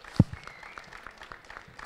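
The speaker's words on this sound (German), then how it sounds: "Das ist dein Applaus jetzt schon mal." A studio audience at a fan talk show gives a short round of applause, a loud thump at the start followed by light, scattered clapping that stays fairly quiet.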